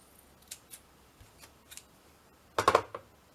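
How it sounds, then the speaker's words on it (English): Scissors snip a small rectangle from a piece of paper: a few light, separate cuts, then a quick cluster of louder close snips near the end. "I'll just cut like a little rectangle off if I can find my scissors"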